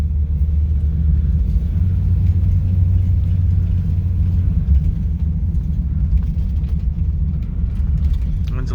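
A restored 1955 Chevrolet Bel Air Hardtop drives along with a steady, low engine rumble heard from inside the car. The level stays even throughout, with faint voices now and then.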